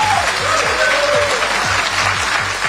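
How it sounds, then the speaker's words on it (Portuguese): Sustained audience applause for Mike Pence after his speech line about choosing the Constitution, a dense steady wash of clapping with faint rhythmic low thumps running underneath throughout. "Os aplausos vieram quando ele declarou ter preferido ser fiel às leis do que obedecer uma ordem arbitrária do presidente."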